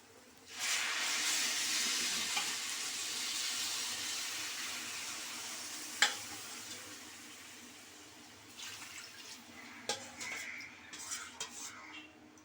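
Water poured into a pan of frying rice for Basanti polao, a loud sustained hiss and sizzle that slowly fades, with a sharp metallic tap midway and a few clinks near the end.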